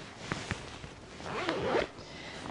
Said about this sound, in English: It zips all the way across.